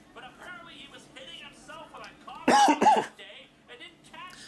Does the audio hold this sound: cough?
yes